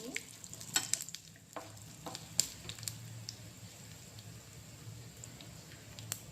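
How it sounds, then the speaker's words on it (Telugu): Red chillies, mustard seeds and cumin fry in hot oil with a soft, steady sizzle. Scattered pops and crackles and a faint stirring scrape sit close by but quiet, with no talking. "రెడ్ చిల్లీ ఆవాలు జీలకర్ర వేసేస్తున్నాను. ఇవి కూడా బాగా వేగనివ్వాలి."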